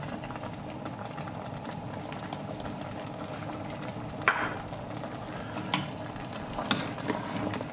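Lamb rogan josh coloured with red chili powder is tossed in a frying pan, giving a soft steady sizzle with a few quiet scraping clacks of stirring, fairly faint and with no talking.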